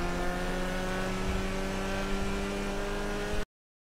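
A Karin 190z sports car engine in GTA V Online hums steadily with a constant tonal drone, loud and close, with no talking, then cuts off abruptly near the end.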